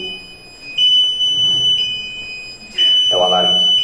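An electronic alarm sounds in a lecture room, two long, steady piercing tones separated by a brief pause, loud and close, with faint murmuring beneath the second tone.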